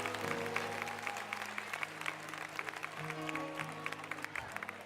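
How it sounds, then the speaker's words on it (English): An audience at a political coalition gathering claps for the guests, a moderate, somewhat distant patter of many hands with faint murmuring underneath. "give a round of applause to all of our guests today"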